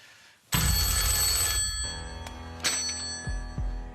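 A telephone rings on the Deal or No Deal game show as the banker calls, a loud, close electronic bell ring that sounds in bursts and then cuts off abruptly.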